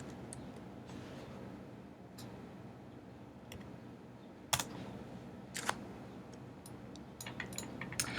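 Typing on a computer keyboard, a few scattered faint key clicks over quiet room hiss, then a quicker cluster of taps toward the end, with no talk.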